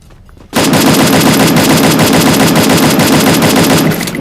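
Rapid automatic gunfire in the Free Fire video game bursts in after a brief quiet start, a loud continuous rattle of shots that holds steady to the end.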